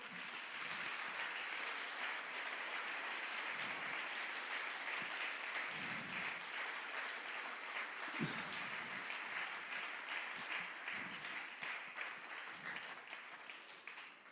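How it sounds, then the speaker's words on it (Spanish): A church congregation applauds during a service, a continuous, even patter of many hands heard at a low level and held for the whole stretch. "dale un aplauso a Dios"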